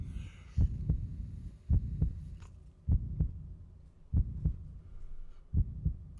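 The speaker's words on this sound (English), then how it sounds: "We can still hear the heartbeat" A heartbeat in The Dark Eye, a Windows 3.1 game, throbs steadily as five deep double thumps about a second apart over a low hum.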